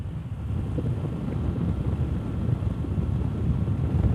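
Heavy wind roars steadily against the microphone on a motorbike ride from Siddapur to Jog Falls after morning rain, a dense, continuous low rumble that grows a little louder toward the end.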